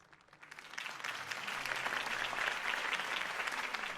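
Crowd applause after Harvey Dent's campaign speech in Batman: The Telltale Series swells from quiet in the first half second into a dense, steady roar of many clapping hands that holds to the end.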